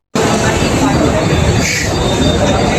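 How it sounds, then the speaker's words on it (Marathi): A train at a Mumbai railway station rumbles loudly and steadily with squealing wheels and a metallic whine, close and continuous from the start. "आम्ही आता खाली उतरतोय आणि ट्रेन पकडून जाऊ डायरेक्ट"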